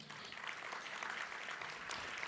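Applause for the Urban League Board and its directors at an annual awards gala, a dense wash of clapping from a crowd heard at moderate distance for a couple of seconds.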